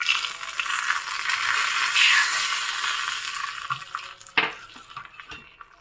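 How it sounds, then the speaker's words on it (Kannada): Tempering of coconut oil with mustard seeds, curry leaves, asafoetida and half a dry chilli hits a pan, giving a loud broadband sizzle and crackle that swells, then fades, with a brief clatter near the end. "ಕೊಬ್ಬರಿ ಎಣ್ಣೆ ಸಾಸಿವೆ ಒಂದು ಕಾಲು ಚಮಚ ಒಂದು ಮೂರು ನಾಲ್ಕು ಕರಿಬೇವಿನ ಸೊಪ್ಪು ಮತ್ತು ಸ್ವಲ್ಪ ಇಂಗು ಮತ್ತು ಒಂದು ಅರ್ಧ ಒಣಮೆಣಸು ಹಾಕಿರೋ ಒಗ್ಗರಣೆ ಹಾಕ್ತಾಯಿದ್ದೀನಿ"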